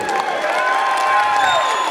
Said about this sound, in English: give a big round of applause for Andy Wade